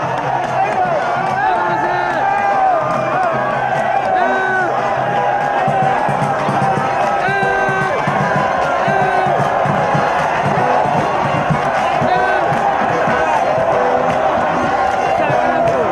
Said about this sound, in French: Une foule de militants ont fait le pied de grue devant chez lui pour lui magnifier son retour parmi eux